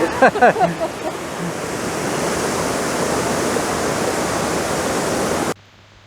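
A waterfall in Tasmania roars as a steady, loud rushing hiss after a few brief spoken words at the start, then cuts off abruptly near the end.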